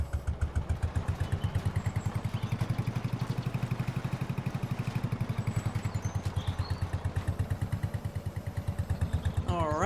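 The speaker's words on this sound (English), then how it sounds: "It's not like this tractor is going very fast at all." An old tractor engine in Farming Simulator 22 labours uphill at slow speed, giving a quiet, steady, rapid chugging pulse that continues evenly throughout.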